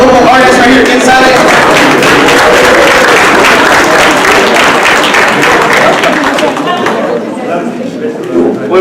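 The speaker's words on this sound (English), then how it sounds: "let's get a round of applause for our local artist right here inside" Sustained applause and cheering from an audience greets a local artist at a community gathering, a dense, loud wash of clapping that fades slightly toward the end.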